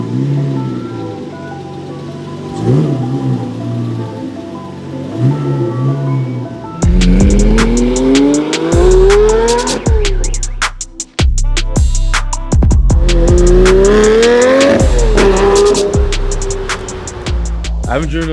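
A Lamborghini Murcielago with an automatic gearbox pulls away hard, its engine climbing through loud rising revs with shifts and brief lifts, then holding a steady drone; quieter idle rumble comes first.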